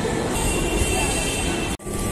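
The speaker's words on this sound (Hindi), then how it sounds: "तो हमारी मेट्रो मोती झील से अब बढ़ चुकी है आगे एक तरफ।" Kanpur Metro train pulling away from Moti Jheel station, a steady broadband rumble and hum of the moving carriage that runs throughout, briefly dipping to near silence just before the end.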